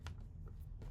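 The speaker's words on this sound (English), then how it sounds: "I'm gonna shuffle again" Tarot cards being shuffled by hand, a single brief riffling burst of soft papery flutters over a steady low background hum.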